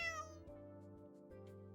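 A cat in the video game Arknights lets out one clear, tonal meow that slides downward in pitch, followed by a few soft synthetic musical tones, with no talking.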